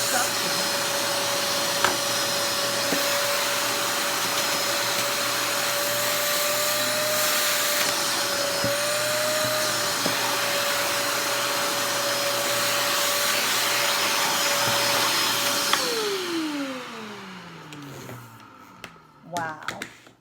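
A We R Memory Keepers wet/dry craft vacuum runs with a loud, steady whining drone for about fifteen seconds, then winds down, with a few handling clicks after it stops.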